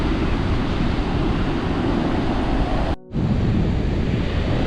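Ocean surf breaking on a beach on the NSW South Coast, a steady loud wash of waves with wind noise, broken by one brief dropout midway.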